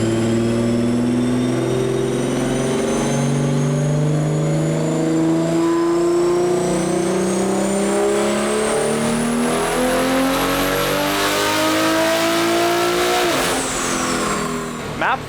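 A BMW G80 M3 running JB4 Map 4 at about 38 psi of boost revs hard on a dyno, its engine note climbing steadily for over twelve seconds before abruptly dropping off.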